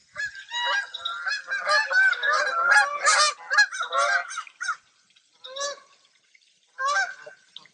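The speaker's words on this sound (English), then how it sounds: "the Canadian geese have stopped in at the pond and are hanging out" Canada geese honk loudly in a dense, overlapping chorus, then quieter single calls follow after brief pauses, fairly close.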